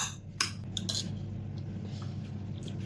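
A spoon stirs fruit salad with vanilla ice cream and red dragon fruit in a bowl, giving a few sharp clinks against the dish over a soft, wet squish, fairly quiet and close.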